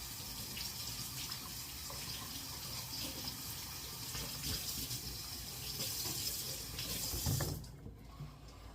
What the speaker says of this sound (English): let me rinse the leek